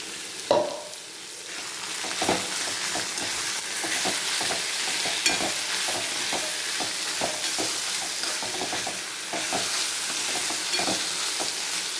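Ginger and green chili mixture sizzling in a pan while cooking amaranth greens, a dense continuous frying crackle with repeated scraping stirs of a spatula, close and steady throughout.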